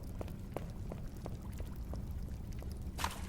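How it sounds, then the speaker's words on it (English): River water flowing as a sound effect in a post-apocalyptic audio drama, a continuous low rushing wash with scattered splashes and trickles, heard alone without voices. "There's a river down there."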